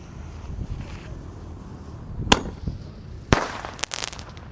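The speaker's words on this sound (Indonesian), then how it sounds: "Lanjut yang kita nyalakan di sini ada pelontar mini Sonic Boom." Outdoors during Ramadan, a mini Sonic Boom firework launcher goes off with two sharp cracking bursts, then a crackling fizzing tail over a low background rumble.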